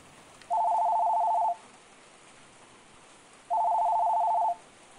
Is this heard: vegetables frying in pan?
no